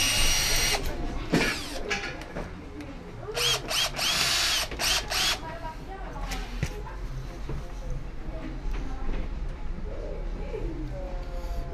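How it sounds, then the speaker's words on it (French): A power drill bores an 8 mm hole through a bodyboard to fit a leash plug, heard as several short, loud whirring bursts in the first half, then quieter handling noise. "Et là, nous perçons en 8."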